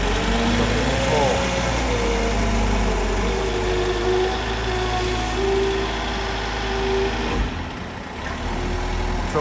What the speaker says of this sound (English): You can see the wheels are spinning.